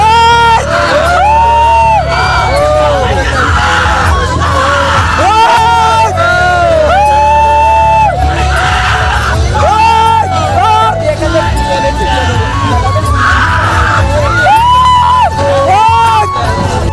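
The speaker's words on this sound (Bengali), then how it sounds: "নৌকায় তো পুরা নৌকা গরম করে দিছে, সবাই চিৎকার আর চিৎকার" A crowd of people crammed aboard a boat at a village fair yells, whoops and screams almost nonstop, loud and close, with voices overlapping in a dense, excited din.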